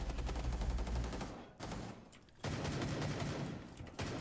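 Gunshots in the video game Rainbow Six Siege: a continuous stream of rapid automatic fire, fairly loud and close, with two brief pauses between bursts and no talking.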